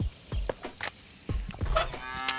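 A bull lowing in the adventure game Deponia, a few short, close moo-like grunts and calls over faint background sound, ending with a higher chiming tone, with no speech.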